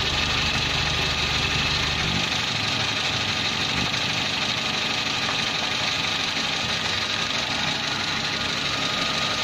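A car engine idles steadily and smoothly, a constant low rumble with a faint mechanical ticking, heard close up with no other sounds; the engine oil has been replaced with cooking oil.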